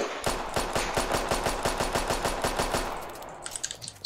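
A rapid-fire gun in a Roblox video game fires a steady, evenly spaced burst of loud shots for about three seconds, then falls away to scattered faint clicks.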